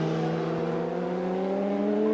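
750cc racing motorcycles, bikes of around 300 pounds, at a 1992 Brands Hatch Supercup race, a loud steady engine drone with rising pitch as the machines accelerate, heard alone without talk.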